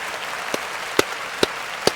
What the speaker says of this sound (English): Let me clap that up